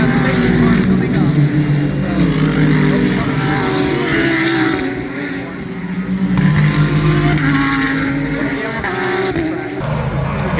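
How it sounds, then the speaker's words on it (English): Cadillac race car at the IMSA Petit Le Mans, running near turns 10a and 10b under a yellow flag, a steady loud engine roar with passing-car swells and other cars around, continuous for about ten seconds. "Here comes the Cadillac."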